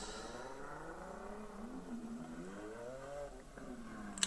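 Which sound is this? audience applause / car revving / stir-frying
car revving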